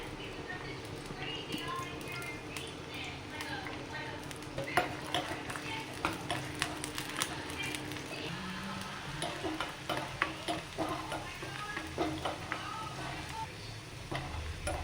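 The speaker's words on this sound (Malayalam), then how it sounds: "ഇനി അതിലേക്ക് ചുവന്നുള്ളി വെളുത്തുള്ളി കറിവേപ്പില ഇട്ട് കൊടുത്തു" Shallots, garlic and curry leaves frying in a hot clay pan, a steady sizzle with frequent clinks and scrapes of a stirring spoon, while someone talks intermittently.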